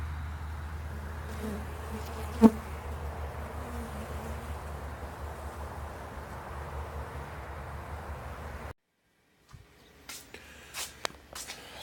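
Honey bees from an overwintered colony kept in three deep hive boxes hum steadily around the hive, a low continuous drone with a brief sharp knock, before the sound drops away and a few faint clicks follow.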